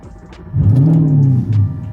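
A nearby Audi R8 supercar engine revs in a short, deep swell that rises and then falls back, followed by a brief second blip. There is no talking over it.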